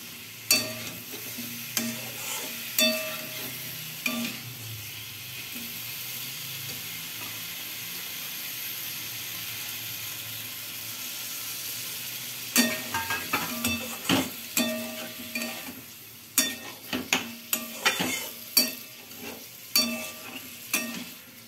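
Pointed gourd (potol) fries in a pan with a steady, close sizzle, joined by irregular scraping and clanking as the pieces are stirred and tossed, the stirring growing busier toward the end.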